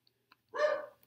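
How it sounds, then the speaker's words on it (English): A pet dog gives a single short, loud bark close by, preceded by a couple of faint clicks in an otherwise quiet room. "There goes my dog."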